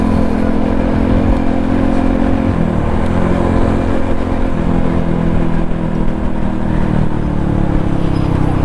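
A motorcycle with an adjustable exhaust, set quieter, rumbles steadily with a throaty note, close and loud throughout, with slight shifts in pitch as it runs.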